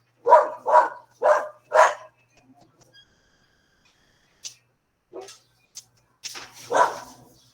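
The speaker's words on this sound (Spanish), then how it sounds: "Dos perros en la calle." Two dogs barking outdoors on a street: four loud, evenly spaced barks in quick succession, then a pause followed by scattered fainter yips and a final louder bark.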